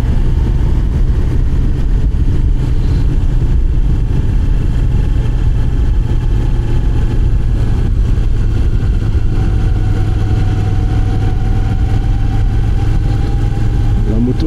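A Moto Guzzi V9 Roamer motorcycle engine drones steadily and loudly throughout, a constant low rumble with wind noise, heard from the rider's position on a country road ride.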